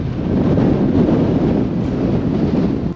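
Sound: strong wind gusts through open window

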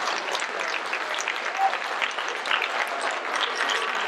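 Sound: applause for a committee

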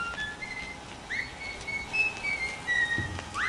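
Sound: whistle in the video game Bendy and the Ink Machine

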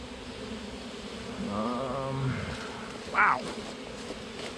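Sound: bees buzzing around a bee tree

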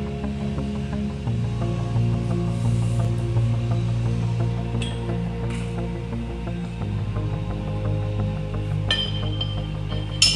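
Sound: 3 5/8 custom wrench tensioning tank manway spring assist

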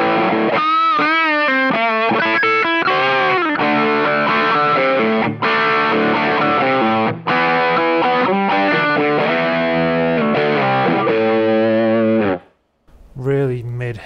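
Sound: distorted electric guitar through booster pedal

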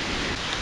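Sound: heavy rain

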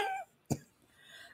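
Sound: cough

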